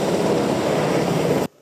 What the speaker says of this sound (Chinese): 直升机低空盘旋，遵从指挥口令成功降落在万吨级玉山舰上